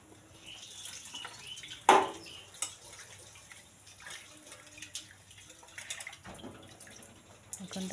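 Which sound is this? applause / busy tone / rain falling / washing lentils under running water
washing lentils under running water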